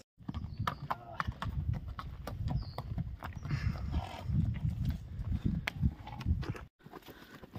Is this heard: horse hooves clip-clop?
yes